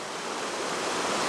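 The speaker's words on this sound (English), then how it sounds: "Very steep, very high gradient little creek here." A tiny, very steep, high-gradient mountain creek rushes nearby, a dense, steady broadband wash of water with no pauses or voices.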